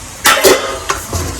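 Chicken being fried in a pan, heard as a few loud bursts of stirring and scraping with sizzling underneath, close and short, with clinks of utensils against the pan.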